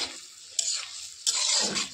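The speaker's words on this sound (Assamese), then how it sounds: "এনেকৈ কিছু সময় লৰাই থাকি" Spinach and mustard greens with local chicken eggs are stirred in a cooking pot, two distinct scraping, sizzling sweeps of the spoon separated by a brief quiet pause, heard close with no speech.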